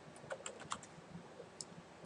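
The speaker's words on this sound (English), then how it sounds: "So if you type in roles," Light tapping on a computer keyboard, a short irregular run of soft clicks close by, with no voices.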